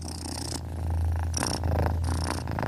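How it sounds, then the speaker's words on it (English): Close, rumbling cat purring in slow rhythmic cycles, each breath in and out making a soft rasping swell. "Magpie lets the sound of Scarlet's purring calm her down"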